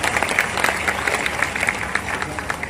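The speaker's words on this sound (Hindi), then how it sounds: "तालियां बजा दीजिए एक बार" Audience applause at a Hindi poetry gathering, a kavi sammelan in Guna, Madhya Pradesh: a steady, dense wash of many hands clapping throughout, fairly close, with no talk over it.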